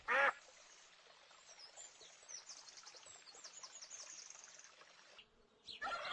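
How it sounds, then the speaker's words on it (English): A duck quacks in a single sharp burst at the start and again at the end, with a steady insect-like buzz in between. "Here is a duck."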